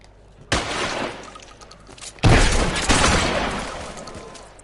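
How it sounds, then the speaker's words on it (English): Gunfire in the crime video game L.A. Noire on PS4: a loud burst of shots breaks out, then a second, heavier volley with glass-like crashes follows, all dense and close with no pauses. "Shoot that punk."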